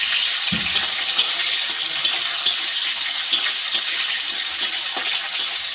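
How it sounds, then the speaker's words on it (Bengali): Garlic cloves, slit green chillies and pre-fried prawns sizzling together in hot oil, a steady close frying hiss broken by small pops and the scrape of a spatula stirring the pan. "সব জিনিসগুলো আমি একসাথে ভেজে নিচ্ছি।"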